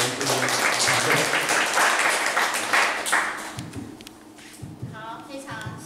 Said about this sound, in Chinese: 所以我们就先掌声的欢迎啊